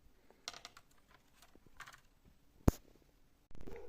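Typing on a freshly replaced keyboard of a Dell E5520 laptop being refurbished: scattered light key taps in short bursts, one sharp loud click, then a steadier noise near the end.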